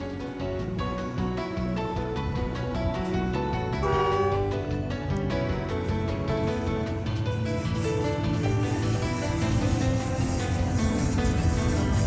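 The restored Ghan passenger train, weighing 1,200 tons, running through the harsh landscape of the Northern Territory, with a steady, dense rumble throughout, partly mixed with music.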